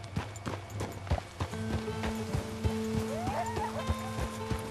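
Horse hooves clip-clop at a steady gait as a rider travels in Red Dead Redemption 2, close and rhythmic, with soft game ambience and faint tones beneath.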